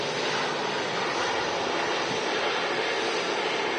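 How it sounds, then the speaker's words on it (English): Emirates Airbus A380 taxiing past at Manchester Airport, a steady broadband jet engine roar that holds loud and close for the whole stretch with no talk over it. "There we go, Emirates A380 taxiing right past us here at the RVP"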